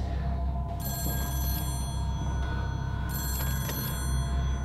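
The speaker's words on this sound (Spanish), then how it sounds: "El teléfono suena." An old office telephone on a supposedly disconnected line rings in bursts, a loud electric bell trill repeating twice over a low rumbling background, with no voices.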